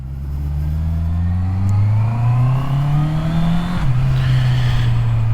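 A Honda CB650R four-cylinder motorcycle engine with stock exhaust revs up steadily in pitch, then drops sharply before holding a lower steady drone, heard close with no voices.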